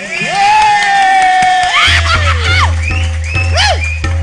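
A crowd cheers and shouts loudly for a band at a music event, with whoops and excited voices over a steady low electronic hum, while a sung note carries through the start.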